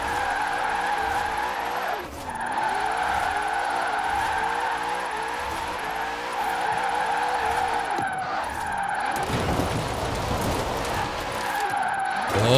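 Mustang drifting through a drift zone in the racing video game Forza Horizon 4, a loud sustained engine whine with long tire screeches sweeping through repeated slides.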